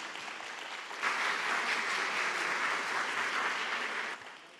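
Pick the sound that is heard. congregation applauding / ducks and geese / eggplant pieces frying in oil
congregation applauding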